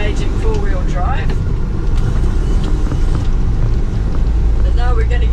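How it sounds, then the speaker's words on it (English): A four-wheel drive vehicle rolls along an off-road track near Cape Kidnappers, Napier, with a loud, constant engine and road rumble mixed with wind buffeting on the microphone, and voices talking throughout. "we're just engaging four-wheel drive"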